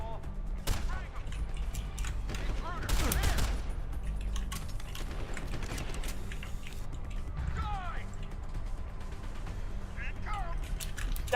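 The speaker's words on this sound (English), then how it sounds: "That's a grenade." In a video game, a grenade explosion erupts amid bursts of gunfire and rapid shots, with mechanical clanks and creaks around them. People talk over the battle.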